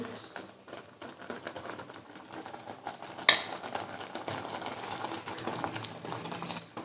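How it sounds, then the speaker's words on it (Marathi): Continuous scraping and clinking of a utensil in a bowl as flour is stirred bit by bit into panse batter for a Konkan-style naivedya recipe made in turmeric leaves, close and steady with one sharper knock midway. "पीठ आपण मिक्स करून घेणार आहोत"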